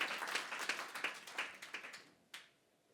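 A church congregation claps and applauds at a worship service, with a run of quick, fairly even hand claps fading out over a few seconds and one last clap near the end.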